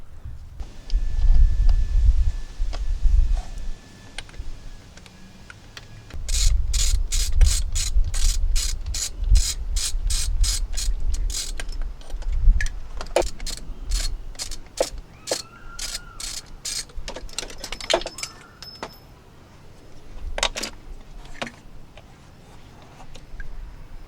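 Ratchet wrench clicking rapidly in quick bursts while removing T30 Torx bolts from a VW MK6 2.0T TSI engine, close and loud, with rubbing and handling sounds between runs of clicks.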